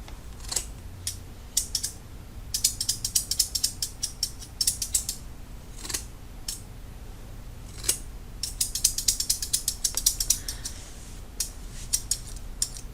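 Monk Chunker grooming shears snip repeatedly with dry metallic clicks and ratcheting catches as the blades catch, in quick irregular bursts, close up with no talking.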